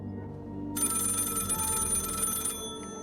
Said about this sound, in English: Oh, let it ring.